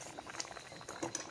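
Assamese spinach and fish curry simmers in a pot, giving off a soft, irregular bubbling and popping that stays faint and close, with small liquid blips scattered through the short stretch.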